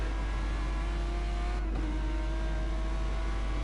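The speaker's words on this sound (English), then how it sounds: "You can see the backfire from the exhausts." Audi race car in a DTM video game race at Dragon Trail Seaside, engine droning steadily with a sustained high tone and a brief dip near the middle, no talk.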